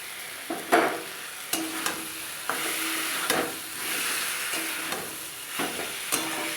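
Meat and pre-fried potatoes fry together with spices in a pan, a steady sizzle punctuated by evenly spaced scraping strokes of a spoon stirring the mixture, close up.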